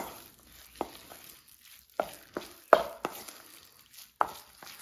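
Chopped mint is worked by hand into a raw chicken kofta mixture, giving soft, irregular squelching thumps spread out over a few seconds, quiet and close with no talk.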